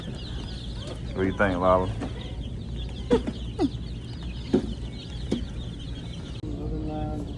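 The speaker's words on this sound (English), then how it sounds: "We just got 12 more chickens, y'all." Young chickens in a brooder cluck and chirp repeatedly at close range, with short bursts of clucking spread across the scene while someone speaks briefly among them.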